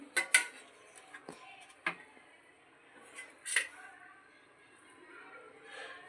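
Dishes and cutlery clink as gongura pulao is served onto plates at home, with scattered sharp metallic taps and scrapes spaced out over quiet background and faint voice murmurs.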